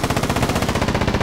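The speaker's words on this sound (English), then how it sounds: "I hear an AK. Pretty damn close." Rapid automatic AK rifle fire in the APB Reloaded video game, a steady loud stream of about twenty evenly spaced shots delivered close up with no voices over it.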